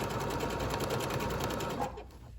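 A sewing machine runs a straight stitch on a child's apron, humming with a fast steady rhythm up close, then slowing and stopping near the end.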